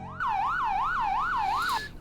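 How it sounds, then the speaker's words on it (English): Yelp emergency siren tone from a vehicle in the Roblox game Emergency Response: Liberty County, rapidly rising and falling in about five quick even sweeps, loud and clean, then cutting off abruptly. "and then you've got Yelp,"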